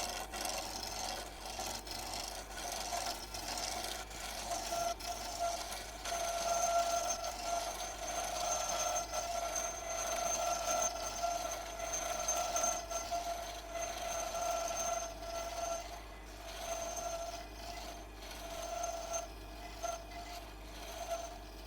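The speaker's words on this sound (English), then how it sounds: "This is where we trim them down to the size that we want on the lathe." A wood lathe trims pen blanks down to size, making a continuous abrasive scraping rasp over a steady tonal hum from the spinning machine, close and sustained for about twenty seconds with small changes in intensity.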